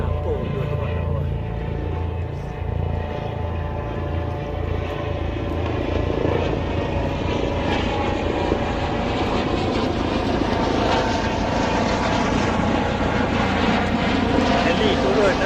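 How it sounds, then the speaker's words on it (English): A helicopter flies over a beach campsite at Pantai Morib, its rotor and engine drone steady and fairly loud, with voices talking beneath it. "Helikopter."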